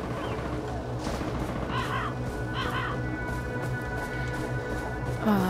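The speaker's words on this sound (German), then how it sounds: "Oh, ein Adler." An eagle cries out in the video game Far Cry 4, giving two short, raspy screeches in the middle of the clip over a steady bed of game ambience.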